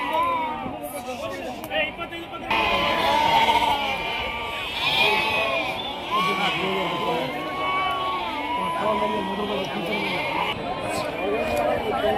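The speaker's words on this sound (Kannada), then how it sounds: "ಸಂತೆ ತುಂಬ ಮರಿಗಳಿದಾವೆ" Lambs bleat constantly at the busy Monday livestock market in Sindhanur, many overlapping close and distant calls over a loud crowd hubbub with people talking throughout.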